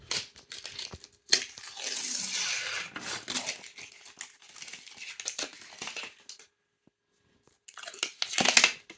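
Heat transfer paper being peeled off a freshly pressed mug from a Cricut Mug Press: close crinkling, crackling paper sounds in uneven bursts with short pauses, then a final sharp rustle.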